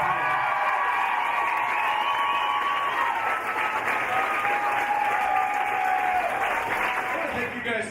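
Audience applause and cheering for seated guests at a Braille Trail book launch, a sustained wash of clapping with a few whoops, while a high whistling tone glides through it and voices carry underneath.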